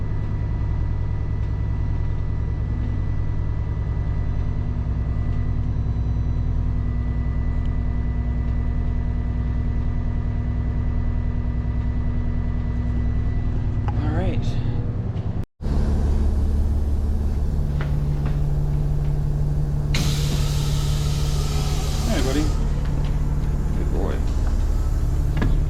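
A school bus engine holds a fast idle in a low, steady rumble. Partway through there is a sharp break, then a brighter, busier stretch of running with extra mechanical noise. Voices are heard over it.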